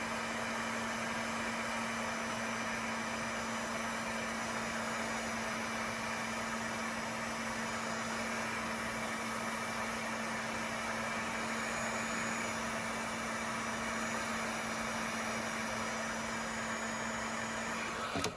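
A heat gun held in one spot to soften car undercoating, giving off a steady, unbroken blowing roar with a constant electric hum running under it the whole time.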